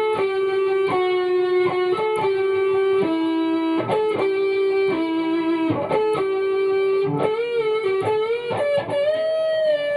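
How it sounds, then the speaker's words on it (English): The first solo of a song on a heavily distorted electric guitar, picked with the index finger; sustained, singing lead notes with bends and quick runs ring out loudly and continuously, alone, with no voice. "Crank up the distortion and it would sound like this"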